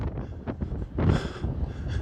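Gusty desert wind among huge wind turbines buffets the microphone with uneven roaring rushes, loudest in a burst midway, with no voice heard.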